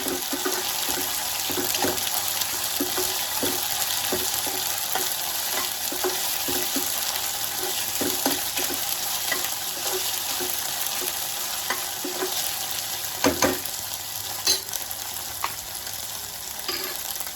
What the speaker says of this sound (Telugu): పచ్చి వాసన పోయేదాకా వేయించుకోవాలండి.